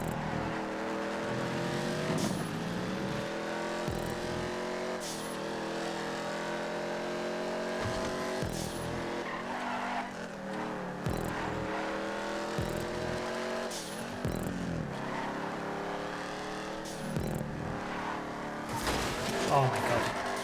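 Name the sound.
race car engine while driving in GTA 5 race, video game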